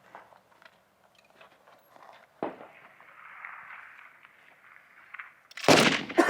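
A single loud rifle shot at a precision rifle match rings out near the end, a sharp close crack after a few seconds of quiet shuffling and faint background noise.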